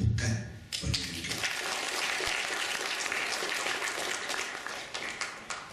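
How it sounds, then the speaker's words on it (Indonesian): Audience applause after a call to honour students at a Tamil secondary school event, a dense steady clapping that swells within the first second and carries on evenly, fairly near, with no talk over it. "berikan tepukan kepada mereka."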